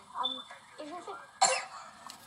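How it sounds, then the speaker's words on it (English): A young girl coughs in a video being played back, a short sequence of a few quiet coughs and throat noises with a sharper burst near the end, heard slightly muffled through playback. "she had the coughs when she made this video."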